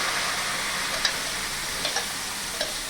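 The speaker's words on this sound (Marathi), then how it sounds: "ही जी मिक्स डाळ आहे ही शिजवलेली ही हळूहळू याच्यामध्ये" Cooked mixed dal goes into a hot pan over a lowered flame, giving a continuous sizzle with a few light spoon clicks and stirring taps.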